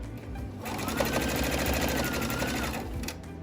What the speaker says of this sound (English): just sew them down to your mask that you're making